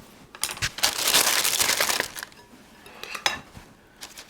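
Elote corn kernels are scooped and tipped into a bowl, a close rattling, clinking patter of kernels and a spoon against the dish in a couple of bursts.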